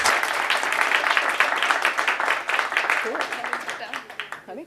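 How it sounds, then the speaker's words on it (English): Audience applause at a Women in Data & AI community meetup, a steady wash of clapping from a room that thins toward the end while voices begin talking over it. "another round of applause for our speakers"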